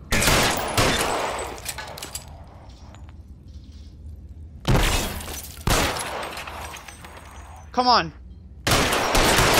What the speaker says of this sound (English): I'm trying to shoot the gun out of his hand.